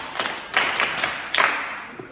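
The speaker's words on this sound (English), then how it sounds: "Clap for her." Children in a school classroom clap for a classmate in two short bursts of brisk, close applause separated by a brief pause, fading out near the end.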